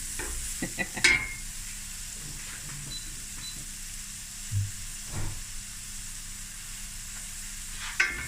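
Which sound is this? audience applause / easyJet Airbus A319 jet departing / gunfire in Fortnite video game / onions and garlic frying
onions and garlic frying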